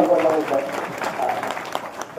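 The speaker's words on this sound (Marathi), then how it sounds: "सगळ्यांनी टाळ्या वाजवल्या" An audience claps at a kirtan during the Ashadhi Wari at the Sant Narhari Sonar temple in Pandharpur. A brief burst of dense, close applause rises under and around a speaking voice.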